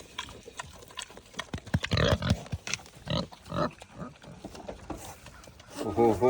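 Pigs at an animal sanctuary eating from a person's hand, with close, wet snuffling, chomping and grunting in irregular bursts, and a person speaking nearby.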